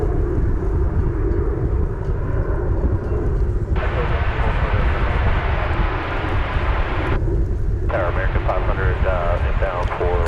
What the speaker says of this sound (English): That is American 3613 going to Amarillo, Texas, in Embraer 175. About to move out